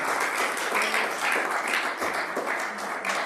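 A church congregation breaks into steady, dense applause that holds at an even level throughout, with faint voices mixed in.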